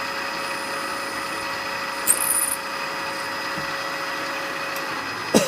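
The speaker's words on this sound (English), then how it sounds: "It's a number 17 drill." A steady high-pitched motor whine runs throughout as a number 17 drill bores a hole, with a brief sharp burst of cutting noise and a couple of clicks.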